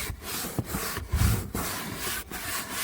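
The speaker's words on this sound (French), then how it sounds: "Et là, on va brosser la zone." A brush scrubs BassMotor fabric cleaner into a car's interior upholstery, making close, rhythmic rasping strokes with short pauses between them and no talking.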